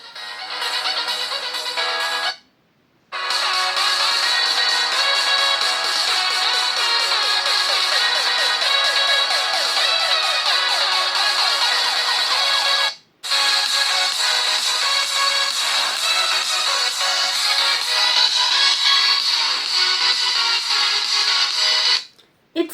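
A Samsung Galaxy A07 phone speaker plays music loudly at full volume, a dense, bright, somewhat flat sound with no deep bass, broken by two brief silent gaps.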